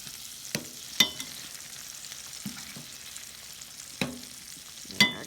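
Potato and cheese pierogies fry with bacon in a pan on a wood stove, giving a soft, low sizzle with a few scattered pops and clicks.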